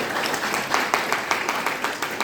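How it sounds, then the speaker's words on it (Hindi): Brief burst of clapping at a DXN business seminar in Tulsipur, Dang, Nepal, as longtime attendees welcome first-timers, a fairly close, slightly uneven patter of hands. "नए लोगों के लिए ताली जरूर बजाएंगे,"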